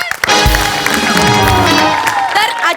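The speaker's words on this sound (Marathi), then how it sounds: "जोरदार टाळी त्यांचं स्वागत करूया" Audience at a Marathi stage event cheering and clapping loudly after a guest is welcomed, a dense burst of crowd noise with voices rising and whooping over steady applause.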